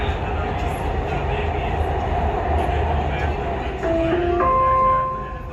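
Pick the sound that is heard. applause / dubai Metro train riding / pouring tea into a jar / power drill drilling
dubai Metro train riding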